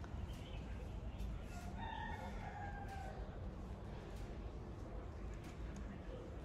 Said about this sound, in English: I love hearing the roosters crow